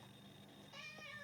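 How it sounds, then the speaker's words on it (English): A house cat meows once briefly and faintly indoors, alone against a quiet background hum. "you got a kitty who's meowing at the same time here"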